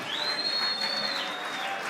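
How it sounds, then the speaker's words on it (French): An audience claps for fighter Vedat Oduc at a combat sports event, steady dense applause from a crowd with a high whistle carrying over it. "Merci d'applaudir une nouvelle fois celui qu'on surnomme The Supreme Machine, Vedat The Supreme Machine, Oduc."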